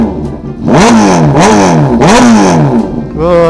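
A 600cc motorcycle engine with an aftermarket exhaust revs hard in repeated bursts, pitch climbing and falling with a loud, raspy exhaust note, close by.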